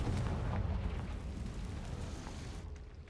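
Confringo, a fiery blast spell in the Hogwarts Legacy video game, erupts as a loud, deep explosive boom with a rumbling roar that sustains for a few seconds before dropping away abruptly.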